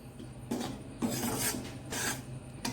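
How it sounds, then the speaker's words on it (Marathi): Wheat flour roasting over low heat in a pan for laddoos, stirred with repeated close scraping and rasping strokes in an irregular rhythm, with no talk. "पीठ मंद आचेवर छान गोल्डन रंग येईपर्यंत, सोनेरी रंग येईपर्यंत भाजून घेऊया."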